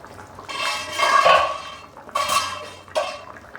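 Pot and lid clanking and scraping in a few short bursts while chicken and potato curry is stirred, close and clear with quiet pauses between.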